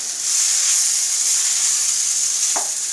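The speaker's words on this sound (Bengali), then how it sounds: "ডালটা একটু ভাজা ভাজা হবে শাকের সাথে।" Dal and leafy greens fry in a wok with a loud, constant sizzle and hiss, close up, with a brief scrape of stirring near the end.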